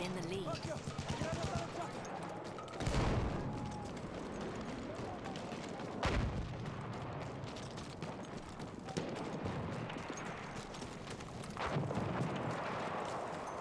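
Gunfire crackles steadily through a match of the video game Battlefield 1, with a few louder, boomy bursts like a thrown bomb exploding, while someone talks over the battle.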